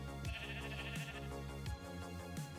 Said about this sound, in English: Hey, it's a wild pink sheep.